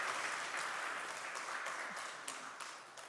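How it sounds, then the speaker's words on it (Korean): A church congregation at a Sunday worship service gives guests a welcoming round of applause, a dense wash of many hands clapping at moderate distance that slowly fades over three seconds. "우리 박수로 환영하시겠습니다."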